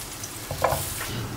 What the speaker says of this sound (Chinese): 再煎四个小糍粑